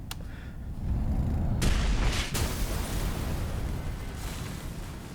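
An explosion detonating in the game AI: The Somnium Files, a heavy deep boom that swells and rumbles for several seconds, loud and close, without speech.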